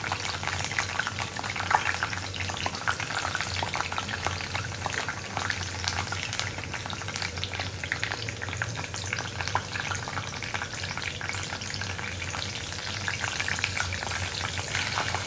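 Curry leaves and green chilies fry in hot oil with a steady, dense crackle and hiss that holds for the whole stretch, close and even, with faint stirring underneath.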